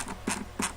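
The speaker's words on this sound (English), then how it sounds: "it works like a normal mouse wheel, where it's got the little clicks like this." A computer mouse scroll wheel clicks as it turns, giving a few quick, faint, close ticks spaced evenly apart in a short burst.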